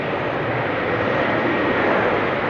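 Cathay airliner with GE90 engines takes off at Amsterdam Schiphol, a steady, loud broadband engine roar filling the whole stretch without voices.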